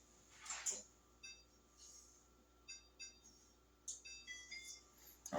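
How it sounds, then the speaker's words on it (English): A digital kitchen timer is set for 55 minutes while a 7 Up pound cake bakes. It gives short, high, bright beeps in irregular clusters as its buttons are pressed, with quiet gaps and soft handling noise between. "We're gonna set our timer for 55 minutes."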